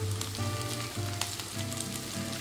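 Drumstick flowers added to onions frying in a pan, a steady close sizzle with soft crackling throughout and no voices.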